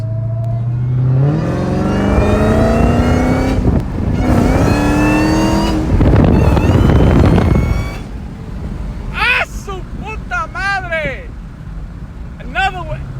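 A Dodge Hellcat fitted with a JLT cold air intake on a test drive, its engine droning and rising with a whining supercharger pitch, then easing off while someone talks and exclaims over it.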